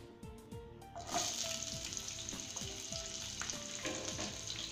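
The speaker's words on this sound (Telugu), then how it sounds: "ఆనియన్స్ కూడా కొంచెం ఫ్రై అవ్వాలి" Urad dal and onions fry in oil in a pan, a dense, continuous sizzle that swells after the onions go in. Repeated soft scraping strokes from stirring run through it, and nobody speaks.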